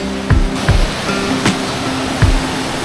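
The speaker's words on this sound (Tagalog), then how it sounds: "Ayun yung falls." Constant rushing roar of a waterfall flowing from Mount Banahaw in Majayjay, Laguna, broad and steady, with a few soft thumps nearby; no voices.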